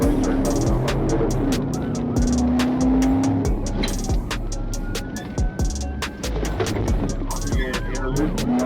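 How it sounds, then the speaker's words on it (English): A Mustang speeding through red lights in a police chase makes a close, roaring engine note with bursts of tire squeal and whooshing passes, under a steady noisy background. "The Mustang blasts through red lights, weaving across lanes and slamming the brakes at random."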